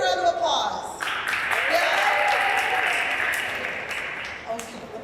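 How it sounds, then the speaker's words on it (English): A round of applause from an audience at an Earth Day press conference, with clapping and a few cheers swelling after a voice trails off, then holding steady before tapering near the end. "Let me hear a round of applause."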